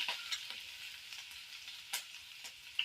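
Onions and curry leaves sizzle steadily in hot oil for a tempering, with a few sharper crackles and spits over a constant hiss, close and moderately loud with no talking.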